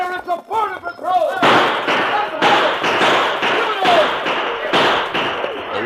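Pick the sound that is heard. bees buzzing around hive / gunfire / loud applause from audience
gunfire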